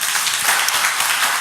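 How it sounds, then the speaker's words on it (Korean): A church congregation at a Sunday morning worship service bursts into sustained, dense applause, many hands clapping together at a steady, fairly loud level with no voices heard. "우리 다 같이 크게 박수 한번."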